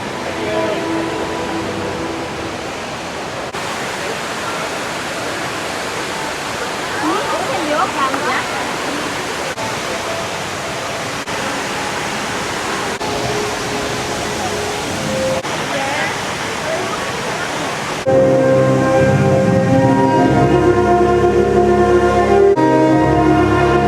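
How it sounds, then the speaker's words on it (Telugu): Indoor waterfall of the HSBC Rain Vortex at Jewel Changi Airport, a steady broad rush of falling water filling the space throughout, with music joining loudly near the end. "దీని లోపలికి వెళ్ళిపోగానే వాటర్ ఫాల్ రంగుల రంగుల లైట్లతో ఉంటుంది"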